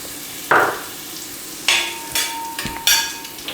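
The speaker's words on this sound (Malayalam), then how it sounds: "വറ്റൽമുളക് ഇവിടെ ചേർത്ത് കൊടുക്കാം." Crushed dried red chillies and coconut pieces fry in a Kerala-style pan. Sharp sizzling bursts and spatula scrapes come in several short, close stirring strokes over a low background hiss.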